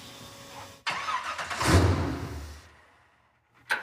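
A muscle truck's engine cranks and fires, catching with a loud burst and a brief rise in revs before settling and fading out, with a sharp knock at the end; no talking.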